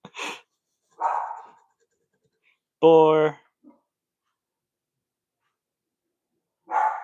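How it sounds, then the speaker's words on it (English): Dogs bark indoors, giving a couple of sharp, close barks against an otherwise quiet background. A person briefly speaks a single word. "it's probably going to make my dogs bark."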